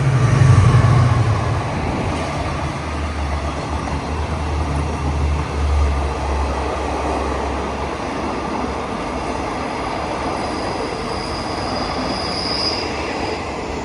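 Thai Rapid/Special Express train hauled by QSY 5211 locomotive rolls past on the line near Ban Pong station, a steady heavy rumble of wheels and cars with a louder low engine throb at first and faint squeals later, no talk.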